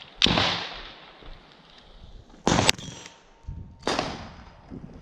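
Three sharp, loud shots from an HK USP9 SD 9mm pistol firing 147-grain rounds, unsuppressed, spaced a couple of seconds apart, each with a short reverberant tail.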